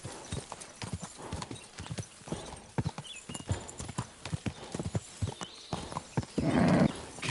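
Horse hooves pound in steady rapid clip-clop beats as a horse gallops in the medieval video game Kingdom Come Deliverance 2, continuous and fairly near, with a brief neigh-like swell near the end.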